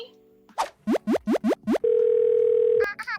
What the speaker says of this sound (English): This was the HMD Barbie phone.